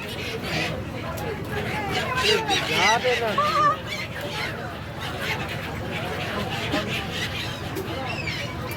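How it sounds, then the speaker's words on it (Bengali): Birds call repeatedly over a steady launch engine drone and the murmur of people talking nearby at Gangasagar, with honking, squawking cries rising and falling. "পাখিগুলো আমাদের সাথে সাথে যাচ্ছে"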